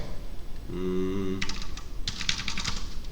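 Quick clicking on a computer keyboard while writing a post in a Java programming lesson, heard in close bursts after a brief steady hum, with no voices.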